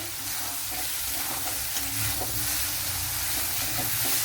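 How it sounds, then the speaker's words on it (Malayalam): Bitter gourd frying in a heavy-bottomed pan, a constant close hiss and sizzle of oil with faint scraping stirs, steady in level throughout, no voices. "പാവയ്ക്ക ഇത്രയും നമ്മൾ ഫ്രൈ ചെയ്തെടുത്തോണ്ട്"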